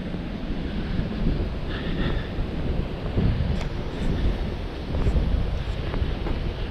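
Wind gusting hard against the microphone beside the East River in early March, a steady broadband roar that swells in gusts with faint background hiss, no voices.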